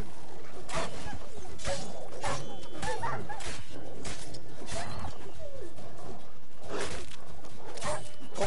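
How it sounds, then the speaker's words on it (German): Dogs barking, yipping and whimpering in The Witcher 3 video game, repeated sharp bursts of barking over constant game noise, with someone speaking intermittently. "Ich töte wirklich sehr ungern Hunde"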